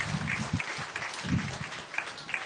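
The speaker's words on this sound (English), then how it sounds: "let's just give them all a round of applause" An audience at a breeding beef show breaks into applause, with steady clapping from a crowd heard at moderate distance for a couple of seconds.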